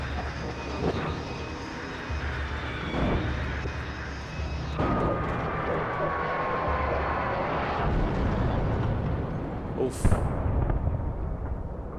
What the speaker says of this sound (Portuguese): tinha um helicóptero que caía, lembrava disso